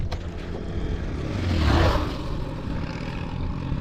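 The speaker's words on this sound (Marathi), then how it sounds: "ट्रॅक्टर आलाय बहुतेक" A tractor on a desert road in Gujarat gives a steady engine rumble that swells as it draws near, peaks around the middle, then eases slightly as it carries on.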